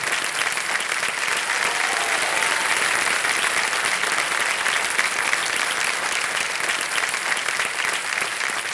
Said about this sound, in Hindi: तालियां बजती रहे इनकी